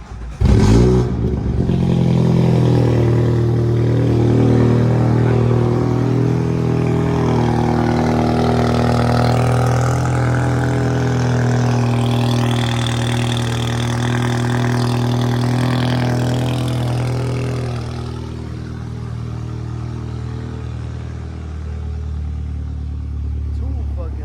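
Stage 2 tuned BMW 330i fires up with a brief burst, then settles into a steady, rumbling idle that holds close and fairly loud for over twenty seconds, easing slightly toward the end.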